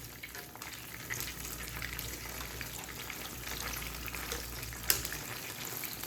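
Bread slices sizzle in oil over medium heat for Hyderabadi double ka meetha, a steady low crackle of frying with a faint watery hiss and one brief sharp click near the end.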